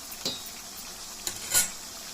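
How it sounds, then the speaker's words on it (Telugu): Green chillies and tamarind cook in a pan with a soft sizzle, broken by a few sharp clinks and scrapes of a utensil against the pan. "చింతపండు పచ్చిమిరపకాయలు మగ్గనివ్వాలి బాగా."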